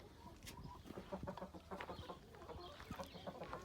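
Chickens in a hobby coop in Taşköprü, Kastamonu cluck softly and repeatedly close by, a steady busy murmur of short clucks from several birds, with no talk.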